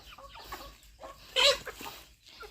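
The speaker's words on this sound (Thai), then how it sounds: "คอกนี่ก็เป็นคอกไก่ไข่นะจ๊ะ" Laying hens in a backyard coop cluck and squawk in short bursts, with one louder, sharper squawk near the middle against a quiet outdoor background.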